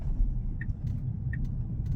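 Tesla Cybertruck driving on city streets while taking a turn, with a steady low road rumble and tire noise from inside the cabin and a couple of faint high chimes.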